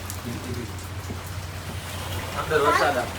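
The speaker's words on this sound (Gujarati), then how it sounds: "આ સાલુ જ વરસાદ છે" Steady monsoon rain pattering on water and a moored wooden fishing boat, a soft continuous hiss with scattered drops, a low hum underneath and a brief louder splash of drops near the end.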